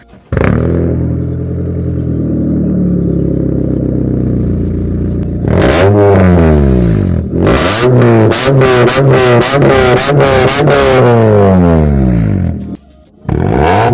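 A Honda VTEC car with an aftermarket exhaust idles with a rough, loud rumble, then is revved hard several times in quick succession, each rev rising and dropping, before cutting off briefly.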